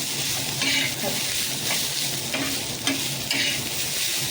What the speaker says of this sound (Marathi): तेलामध्ये कांदा चांगला फ्राय करू